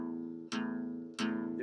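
A beginner's sloppy downward pick strum on an acoustic guitar catches several strings at once. Two loud strums ring out in turn, each sustaining into the next.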